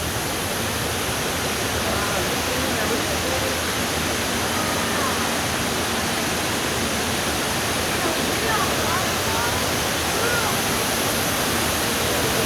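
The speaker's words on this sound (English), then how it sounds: "Inside a waterfall? Yes!" Rushing water roars in a constant, enveloping wash from a waterfall inside a cave, heard up close, steady throughout with no speech.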